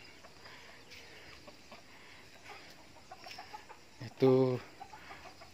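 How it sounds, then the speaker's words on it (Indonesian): Village chickens in a residential yard give soft, scattered clucks over a hissy background before one hen lets out a loud, close, squawking cackle near the end; a voice speaks briefly. "Ini ayam kampung."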